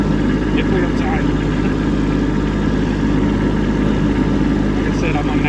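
A Kubota B2601 compact tractor engine runs steadily at close range while clearing snow during a big snowstorm, a continuous loud mid-pitched drone with no breaks throughout.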